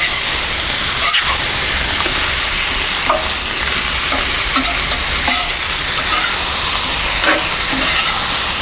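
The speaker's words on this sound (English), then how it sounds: "It's gonna fry up quick." Steak, mushrooms and onions fry on a Blackstone griddle with a loud, continuous sizzle, and a spatula scrapes and taps the surface now and then.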